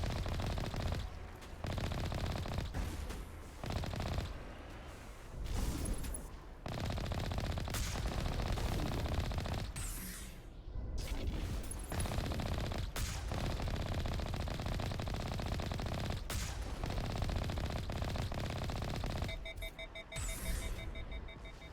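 Rapid bursts of gunfire from a video game firefight, dense and continuous, with repeated shots and machine-gun-like rattles filling the whole stretch at steady loudness.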